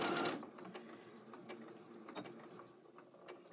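A Janome Skyline S7 sewing machine stitches in place, giving soft, faint mechanical ticks and whirring after a brief louder start, with no talk.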